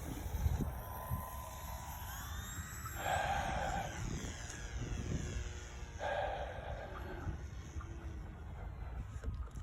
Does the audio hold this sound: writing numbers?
no